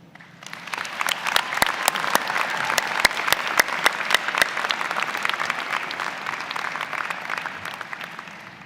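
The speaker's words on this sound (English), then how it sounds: "please join me in a round of applause for the people who have helped you get here and continue to cheer you on" Audience at a university convocation ceremony applauds graduates' families and supporters, a steady, full round of clapping from a large crowd that swells quickly, holds, then begins to taper off.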